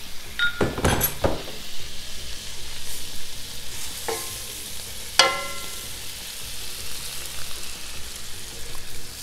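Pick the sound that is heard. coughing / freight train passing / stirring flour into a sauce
stirring flour into a sauce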